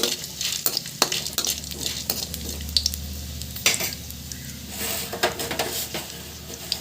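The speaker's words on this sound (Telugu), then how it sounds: "అలాగే ఇందులో ఒక రెండు ఎండుమిర్చి వేసుకోండి ఇవి కూడా వేగనివ్వండి" Two dry red chillies fry in a pan with oil, giving a steady close sizzle broken by scraping stirs and light clinks of the utensil against the pan.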